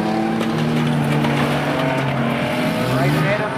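Demolition derby and chain race cars at Beachlands Speedway in Dunedin, a constant loud roar of several engines with revving and tire noise. A commentator talks over the racing throughout.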